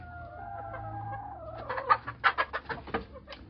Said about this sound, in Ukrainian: Отак, отакий от півень, якийсь трішки куструбатий.